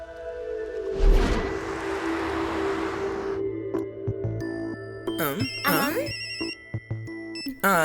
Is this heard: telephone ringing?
yes